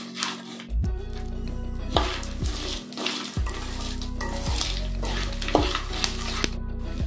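Curry leaves crackle and fry in a pan with a steady, close sizzling and intermittent popping over a low, droning tonal background.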